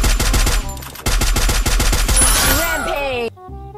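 Rapid bursts of automatic gunfire from the Free Fire battle royale game, loud and close, in quick repeated volleys, then a sweeping electronic effect before an abrupt cutoff.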